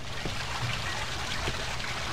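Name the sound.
water sound in video game Cry of Fear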